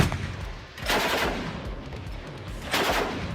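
A KPV heavy machine gun fires 14.5x114mm anti-tank cartridges in two loud, booming bursts about two seconds apart, with rumbling echo between them.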